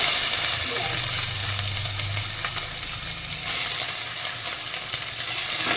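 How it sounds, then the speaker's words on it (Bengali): Onions sizzle and fry in hot oil in a pan, a loud, continuous hiss with faint stirring touches and no voices over it. "পেঁয়াজটাকে লাল করে ভেজে দেবো।"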